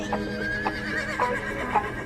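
Horses neigh and whinny several times over a steady rumble of galloping hooves, loud and close, in a battle scene as Alexander's cavalry chases Porus.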